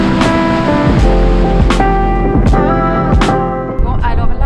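Skógafoss waterfall in Iceland roars as a steady, dense wash of rushing water, close and loud throughout, with people's voices carrying over it.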